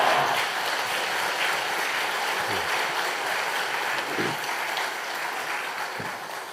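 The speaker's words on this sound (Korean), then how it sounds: "우리 박수로 환영하도록 하겠습니다" A church congregation at an evening revival service applauds to welcome the pastor, a steady wash of many hands clapping at moderate level, continuous throughout with a few low thumps.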